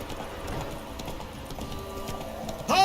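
Hooves of Roach, a horse in The Witcher 3, clip-clopping in a steady rhythm close by, ending with a brief loud burst.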